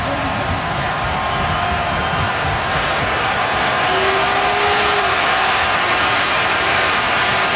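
A loud stadium crowd roars continuously at an NFL football game between the Pittsburgh Steelers and Baltimore Ravens, a dense, sustained wash of cheering with no break.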